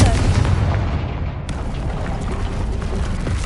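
Heavy booming blast from the Confringo spell in Hogwarts Legacy, a loud explosion with rolling rumble and debris noise that stays dense and sustained across the whole moment, a voice faintly present.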